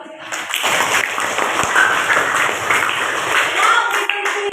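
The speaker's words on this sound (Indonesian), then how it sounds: "Beri tepuk tangan dulu untuk kita." A classroom of students claps their hands together in a sustained burst of dense, overlapping claps lasting several seconds, close and fairly loud, with a few faint voices mixed in.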